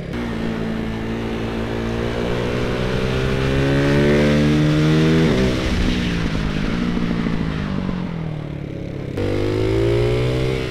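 A Ducati Hypermotard 698 Mono single-cylinder with a Termignoni race exhaust revs loud and close, climbing through the gears with sharp shifts and a brief dip before pulling hard again.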